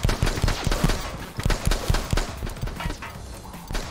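An assault rifle in a shooter video game fires in rapid irregular bursts of sharp cracks, loud and close, with some game noise between volleys.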